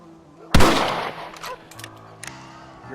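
A single loud rifle shot rings out in the Red Dead Redemption 2 video game, followed by a decaying echo and a few faint clicks and handling sounds, with no talk.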